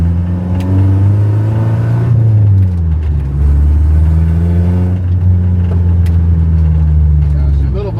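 A Nissan 240SX S13 fitted with new Maxpeedingrods T6 coilovers drives close by, its engine droning loudly and steadily with rising and falling revs through turns, while a person talks over it.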